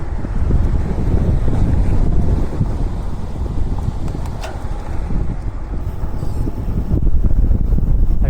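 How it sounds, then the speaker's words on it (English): Strong headwind buffets the microphone of a cyclist on a long road ride, a steady loud rumbling roar that fills the whole stretch without any voices. "I was riding into a headwind like crazy, really strong headwind the whole way back."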